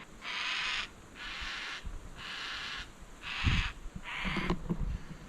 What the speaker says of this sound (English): Found the black cocky in the tree here.